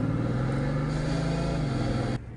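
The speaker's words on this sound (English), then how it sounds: "It makes the most amazing sounds. There's whirring. There's growling." Engine of a 2013 Bugatti Veyron Grand Sport Vitesse, a steady close whirring growl with a sustained drone that drops slightly in pitch before cutting off near the end.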